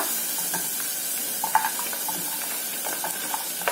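Fried idli pieces stirred and tossed in a hot pan, a steady sizzle with light scraping and tapping of the spoon, close and continuous with no voices.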